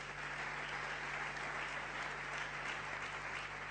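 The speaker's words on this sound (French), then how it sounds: "On peut acclamer notre presse." A church congregation applauds its press team during a worship service, steady broadband clapping filling the room evenly for the whole stretch, with no voices standing out above it.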